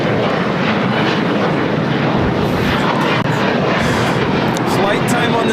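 Steady broadband roar of an Airbus A340-300 airliner at LAX, loud and continuous without a break, the sound of jet engines near a runway.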